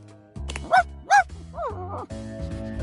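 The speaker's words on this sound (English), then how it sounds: "Yet my dog seems to know you." A dog in the video game Date Everything gives two short, loud barks close by, followed by softer whining yips over steady game music.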